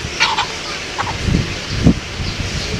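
A rooster gives a few short, gruff clucks with rustling between them, in a loud, close outdoor setting. Nobody speaks.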